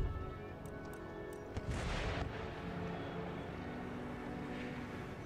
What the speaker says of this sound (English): the shrapnel shot was detonating really early